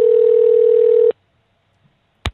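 A steady telephone dial tone hums loudly for about a second, then cuts off into near silence, followed by a brief click or clunk.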